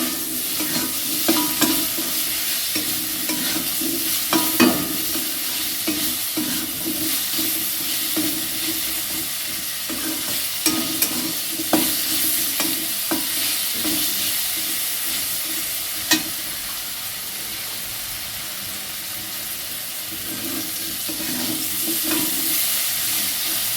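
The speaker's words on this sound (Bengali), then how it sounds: "দেখুন আমার আলুটা ভাজছি।" Potato pieces seasoned with salt and turmeric fry in a pan with a continuous, even sizzle, broken by scraping stirs and occasional light clacks throughout.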